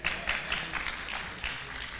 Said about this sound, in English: Y'all give him a good hand of applause.